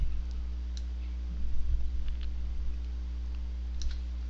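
A computer mouse in a flyer design editor gives a few sparse, faint clicks while a shape is dragged, over a steady low electrical hum with no talking.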